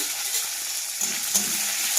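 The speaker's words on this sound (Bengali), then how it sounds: "দেখো এটা আমার ভালোভাবে ভাজা হয়ে গেছে" Onion, tomato and chilli fry in a pan with whole chilli, cumin, bay leaf and cinnamon, a steady close sizzle with light stirring scrapes and no talk.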